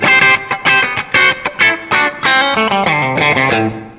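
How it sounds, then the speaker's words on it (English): A Traveler electric guitar on its bridge pickup with distortion off plays a clean, snappy phrase of short plucked notes, then a more legato run, close and loud with no talking. "So let me turn this distortion off. Okay, so this is the bridge pickup."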